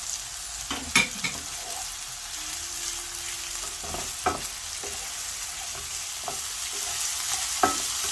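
Chicken and vegetables being sautéed in a pan for chicken quesadillas, giving a steady soft sizzle with a few sharp spoon clinks and stirring scrapes spread through the clip, no talking.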